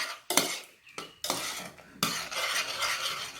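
A spoon stirs sugar, jelly and pineapple in a pan for an eggless pudding, with several distinct metallic scrapes and clinks against the pan over a low bubbling sizzle, close and without talk.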